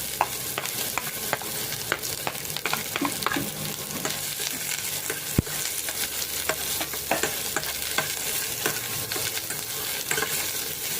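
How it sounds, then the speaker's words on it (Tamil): Onion pieces fry in hot oil, crackling loudly and constantly up close, with frequent stirring clicks and scrapes against the pan and no talk. "இந்த வெங்காய துண்டுகளை சேர்த்து நல்லா வதக்கி எடுத்துக்கலாம்"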